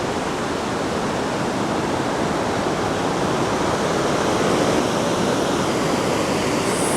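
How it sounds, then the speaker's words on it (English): A large waterfall at Burgess Falls in Tennessee roars in a constant, dense rushing hiss that stays even and loud throughout, with no voices. "I hear waterfalls. This one sounds so big."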